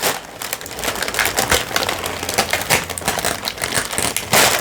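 A sticker being peeled off a tarot deck package gives close, continuous crinkly peeling and crackling for a few seconds, with no talk.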